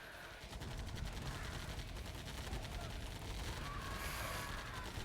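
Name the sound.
minigunner gunfire from the video game Command & Conquer Remastered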